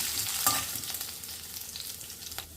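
Chopped green chillies, dried red chilli and curry leaves sizzling in hot oil in a pan, a dense steady frying hiss with faint scrapes of stirring, close and with no talking.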